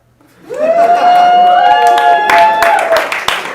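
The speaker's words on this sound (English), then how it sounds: "I love how the ladies are clapping" Audience at a stand-up comedy show breaks into clapping mixed with loud whoops and cheering voices, building quickly and staying steady for a few seconds.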